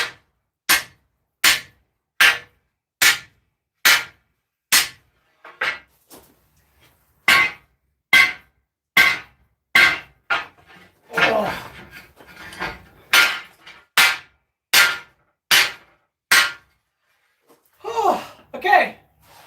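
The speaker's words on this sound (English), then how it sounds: "This is more of a flat face hammer for smoothing out the bevels." A flat face hammer pounds hot steel while forging a seven-foot sword: loud, close, ringing blows in a steady rhythm, with a short pause and brief talk partway through.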